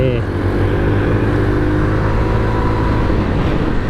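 A motorcycle engine runs steadily and loud, close by, with a low droning tone that shifts slightly in pitch as it pulls away.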